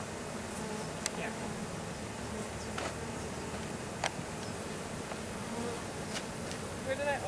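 Honeybees from a package being installed into a hive, a steady close swarm buzz with individual bees droning past the microphone, accompanied by a few faint clicks and handling sounds.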